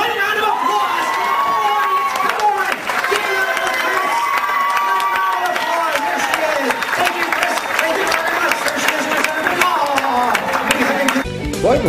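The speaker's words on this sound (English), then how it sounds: "One round of applause." A magic show audience claps and cheers in a dense, continuous burst, with shouts and voices mixed through it for the whole stretch.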